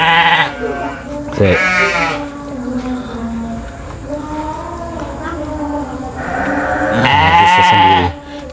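Sheep bleat loudly and close by during a lambing birth, with several long wavering cries at the start and again near the end, and a person's voice murmuring softly between them.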